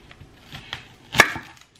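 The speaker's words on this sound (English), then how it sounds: "I'm going to cut this onion in quarters" A knife cuts an onion into quarters on a cutting board: a few light taps build to one sharp, woody chop near the end, close and alone with no talk.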